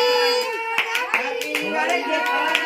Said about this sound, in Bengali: Happy new year, happy new year, হাততালি।